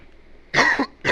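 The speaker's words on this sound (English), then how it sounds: "Not only was it a cough, but a muffled cough into a microphone." A muffled cough into a microphone during a pool commentary, in two close bursts, the first longer and the second cut short, loud and near with no talk.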